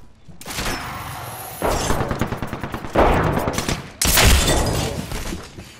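Gunfire in the video game Apex Legends: a sharp burst starts, then rapid repeated shots in a fast rhythm, then heavier blasts, loud and close, with no talk.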